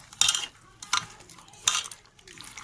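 A spoon or hand mixes food with white mustard paste and green chillies in a metal pot, three short scraping, clinking strokes spaced about a second apart, close and fairly soft.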